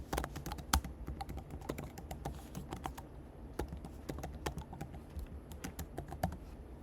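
Fingers tap steadily across a computer keyboard while writing code, a close run of quick, uneven clicks with occasional louder key strikes and brief pauses, heard alone without talk.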